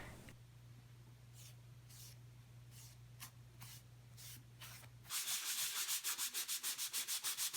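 A plywood laptop stand is sanded by hand between water-based finish coats, with rough scrubbing strokes at first and then a rapid run of loud rhythmic back-and-forth rubs, close to the listener.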